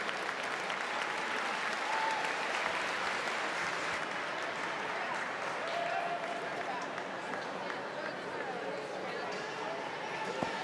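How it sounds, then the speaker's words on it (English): Steady, broad applause from spectators at a swimming meet's men's 1500m freestyle final, a dense wash of clapping with crowd murmur and voices underneath, holding an even level throughout. "how about a big round of applause for all of our distance swimmers?"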